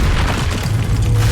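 Expulso blasting spell exploding in Hogwarts Legacy, a loud, dense boom with a sustained low rumble filling the whole moment, close and forceful.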